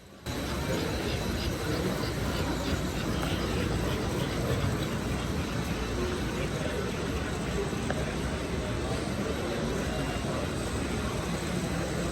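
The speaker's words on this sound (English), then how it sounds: "Here we see two steam locomotives double-heading a freight train." Two American Flyer S-gauge model steam locomotives double-head a freight train around a layout, producing a continuous, even rolling rumble and hiss that holds steady throughout.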